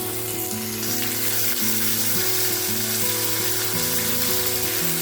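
Tomatoes sizzle steadily in a hot pan alongside onions for a Tamil-style onion chutney, a constant close frying hiss running throughout with a low tonal hum underneath.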